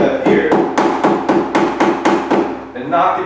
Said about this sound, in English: you can grab a rubber mallet hammer like we have here